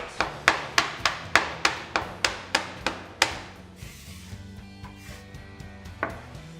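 A knife chops through soft gnocchi dough on a cutting board, about a dozen crisp, evenly spaced thuds close up in the first three seconds, then a few quieter scattered taps.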